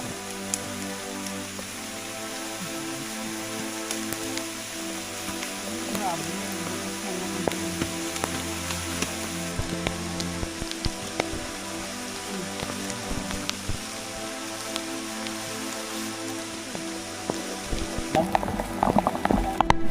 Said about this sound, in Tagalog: Lumalakas na nga ang ulan.